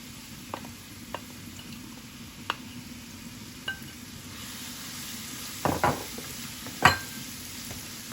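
Blended onions fry gently in coconut oil in a pan, a faint steady sizzle broken by occasional sharp clinks and scrapes of a utensil against the pot, with no one speaking.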